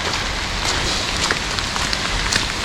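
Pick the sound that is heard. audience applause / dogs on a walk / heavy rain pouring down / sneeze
heavy rain pouring down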